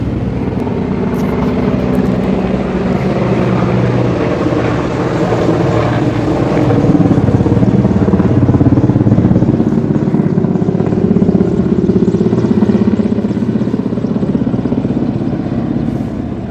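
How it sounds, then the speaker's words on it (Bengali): A loud, continuous low engine roar with a throbbing rotor drone as three helicopters pass in succession, steady and close overhead for the whole stretch, with no talking. "আজকে পরপর 3টে হেলিকপ্টার একসাথে যাচ্ছে"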